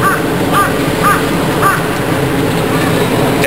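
A person loudly imitates a crow during a Japanese rakugo comedy performance, repeating harsh caws in a steady rhythm, about four times in a row with a murmur of voices behind.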